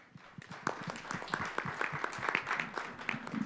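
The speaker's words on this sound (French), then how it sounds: "Effectivement, ça mérite applaudissements" A conference audience at a Moroccan legal event on investor-state dispute settlement applauds after a talk. The clapping is quiet and somewhat distant, building into a steady patter of individual claps.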